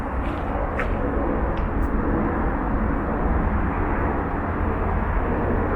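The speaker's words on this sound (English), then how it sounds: "One thing you hear out here a lot is the traffic from I-5 and oftentimes the planes going over" A steady, broad roar of an airplane passing overhead, constant and fairly loud throughout, with a few faint clicks on top.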